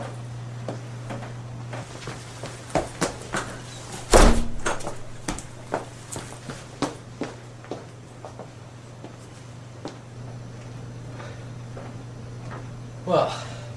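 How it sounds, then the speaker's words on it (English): A door is shut in a basement, landing as one loud, sharp thud midway, with lighter knocks and taps scattered around it over a steady low hum. "Close that door."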